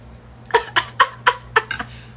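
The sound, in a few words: imitated coughing of a patient choking while drinking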